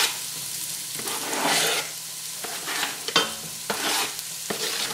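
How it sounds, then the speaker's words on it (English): Chopped onions, garlic and celery hit a pot of browned butter and sizzle steadily, with a few sharp stirring scrapes and clacks cutting through the frying hiss. "add your chopped onions, garlic, celery to the pot"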